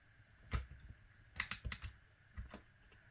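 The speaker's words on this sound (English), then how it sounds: "I'm having trouble today with my tape dispenser." A tape dispenser pulls and tears tape while rings of a planner are taped, giving a handful of quiet, sharp clicks and rips spaced unevenly, close up, with no talking.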